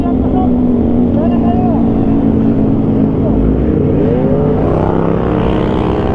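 A turbocharged Kawasaki ZH2 motorcycle revs and accelerates with a steady, loud engine drone and rising whine, heard up close on a ride in Malaybalay City, with a voice talking over it.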